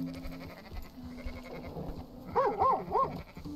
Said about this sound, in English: a dude just herding his sheep out here with his dog